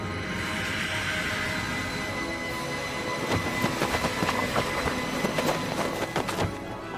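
A night train rumbles past in a horror animation, a steady broad roar joined midway by rapid clattering wheel clicks, with no voices.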